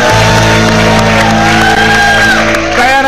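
Studio audience on an Indonesian TV variety show cheers and shouts loudly, a dense, steady crowd roar with whoops lasting the whole moment, close and full.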